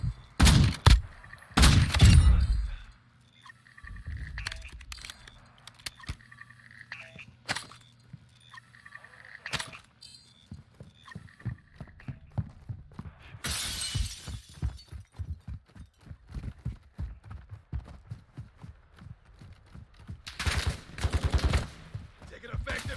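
Video game gunfire in a squad-based tactical shooter: loud bursts of shots near the start and again toward the end, with scattered rapid cracks and clatter throughout, under intermittent game voice callouts.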